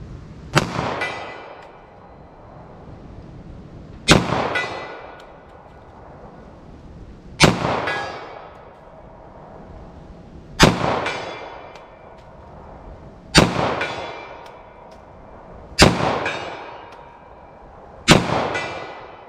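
Seven sharp, loud .45 ACP pistol shots fired at a steady pace a few seconds apart at a ballistic gel test, each crack followed by a short decaying echo.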